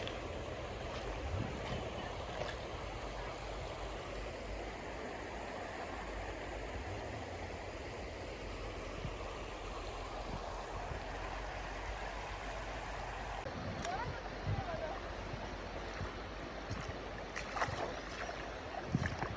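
Steady broadband rushing water, continuous and fairly loud, where the Prut and Prutets rivers flow close by near Mykulychyn in the Ukrainian Carpathians, with no voices.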